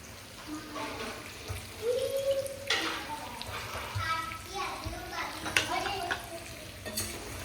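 Drumstick (moringa) vegetable cooks in hot oil with spices, a soft continuous sizzle with occasional stirring scrapes, while people talk nearby throughout.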